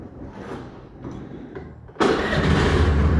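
A Honda Dio scooter engine catches, cutting in loud and sudden after a second or two of quieter cranking and background noise, then idling steadily up close.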